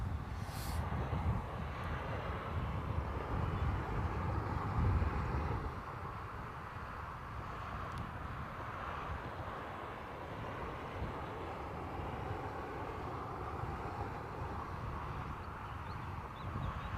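A large airliner taxies slowly through an S-bend at the Airbus factory in Toulouse, its engines giving a steady, broad roar at moderate distance that holds evenly throughout with no voices.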